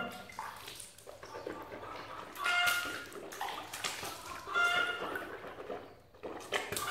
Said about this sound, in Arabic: دابا كنمشيو للمضمضة